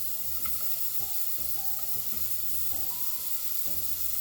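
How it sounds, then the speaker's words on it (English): Onions and celery for a low-carb clam chowder sizzle steadily in a pot as they go in, a continuous close frying hiss with light stirring knocks and no voices. "Let's go ahead and add these vegetables to the pot."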